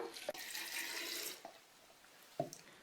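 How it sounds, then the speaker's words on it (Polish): Water poured into a glass jar of cherries for making cherry liqueur, a close, soft rushing stream for about a second followed by a few faint splashes and knocks, with no speech. "I teraz wlewam wodę"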